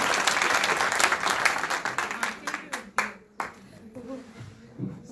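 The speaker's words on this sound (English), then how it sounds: "please give a big clap for Dr." An audience claps loudly for Dr. Anila at a conference closing ceremony. The clapping fades within about three seconds into scattered claps and quiet voices.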